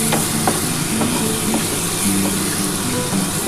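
Masala for pomfret and potato curry fries steadily in a pan with a dense, continuous sizzle and hiss, broken by light rhythmic scraping taps of stirring throughout.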